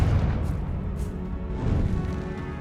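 Confringo fire spell cast in Hogwarts Legacy on PC, a loud, deep booming blast that rolls on as a continuous roar for a few seconds, with no voices over it.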